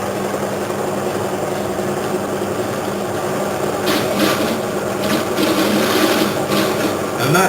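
An aluminum block flips and rattles against a spinning magnet driven by eddy currents, a steady mechanical whir with louder clattering bursts in the second half, close and without talk.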